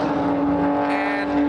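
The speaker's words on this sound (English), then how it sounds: "there's a BMW with some pops and bangs with the burble tune." A BMW with a burble tune at a car meet, its exhaust droning steadily nearby with a sustained engine tone; distinct pops and bangs are not clearly separated in the continuous roar.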